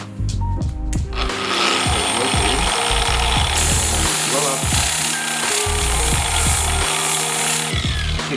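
A polisher with an Adam's Polishes pad spins at low speed to clean out the pad during paint correction, making a loud, steady motor whine with rhythmic pulsing thumps throughout.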